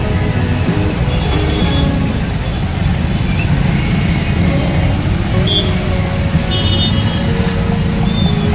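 A traffic jam at a busy city intersection in Nanded, India: a dense, constant rumble of idling and creeping engines with a few scattered horn tones, loud and unbroken throughout.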